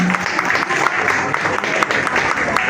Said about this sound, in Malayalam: കുഞ്ഞുമക്കളെ എല്ലാവരും കൈയടിച്ച് പ്രോത്സാഹിപ്പിക്കുക